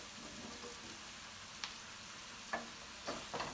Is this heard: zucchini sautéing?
yes